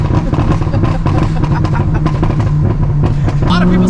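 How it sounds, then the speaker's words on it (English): Dodge Viper ACR running in manual mode, its exhaust rumbling loudly with a rapid string of sharp pops and crackles over a low engine drone throughout. "drop her down into manual mode so we can hear the pops."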